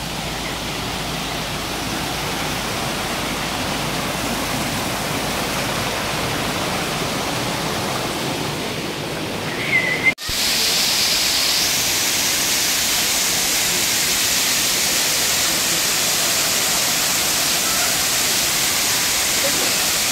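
Fast rushing water from a stream or falls along a motorcycle ride to Ajodhya Hills, Purulia, a loud continuous hiss that brightens and intensifies after a brief click midway.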